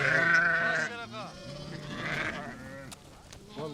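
Hissar breed sheep bleat on a livestock farm, a few wavering cries rising from the flock while someone talks over them throughout.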